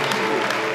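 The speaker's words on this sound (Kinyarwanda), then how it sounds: "Dukomere Imana amashyi" A church congregation clapping together, a dense burst of applause heard close and fairly loud, with a murmur of voices mixed in.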